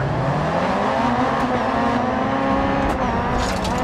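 Rally cars launching off the start in the video game Dirt 4, engines revving hard together as they pull away, a loud continuous roar rising in pitch, with a brief tire squeal.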